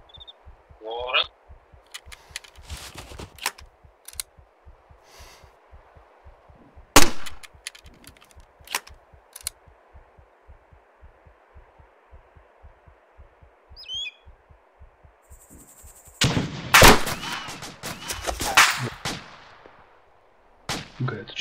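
Gunfire in the ArmA 2 ACE military game, shot from a bunker at roughly 500 meters: scattered single cracks and short bursts over a steady low rumble, with a denser, louder volley near the end.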